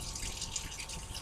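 Tap water runs steadily into a sink while a child's hands are washed and rinsed in a childcare setting, a constant close hiss with no talking.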